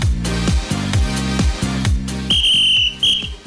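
A whistle is blown in short sharp blasts over loud, rhythmic music at a party contest on a Turkish comedy show, with the blasts cutting in near the end.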